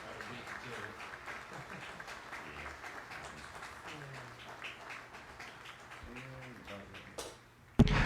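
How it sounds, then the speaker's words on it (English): Sustained applause from a crowd at a US Army infantry graduation ceremony, steady clapping throughout, ending with a loud burst near the close. "please join us in giving these fine soldiers a round of applause"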